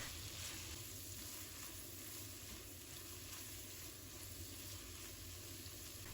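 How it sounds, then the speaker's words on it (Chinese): Red chili and beaten eggs are stir-fried in a hot wok, a continuous, even sizzle and crackle heard up close with no breaks or talking. "把它翻炒均匀。"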